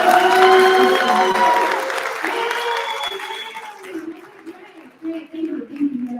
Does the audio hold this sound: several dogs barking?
no